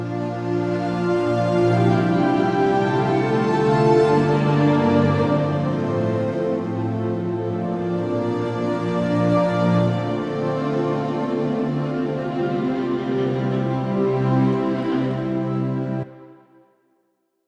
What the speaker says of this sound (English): Just makes this really lush and rich string sound